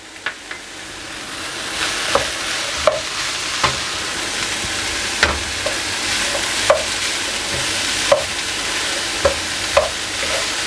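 Chicken quiche filling with fresh basil stir-fries in a pan, a steady close sizzle broken by repeated scraping clacks of a spatula stirring at an irregular pace.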